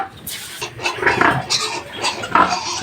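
Pigs and piglets grunt and squeal in short, repeated bursts nearby, with some clattering in the background.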